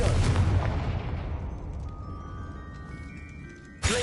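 A Confringo fire spell from the video game Hogwarts Legacy bursts in a loud booming explosion that rolls off into a long fading rumble, followed by faint magical chimes and a sharp burst at the end.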